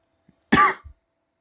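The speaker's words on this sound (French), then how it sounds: "Et comment il arrête pas de tousser?" A person coughs indoors in a cellar, a single sharp close cough followed by a softer short throat sound, with silence around it.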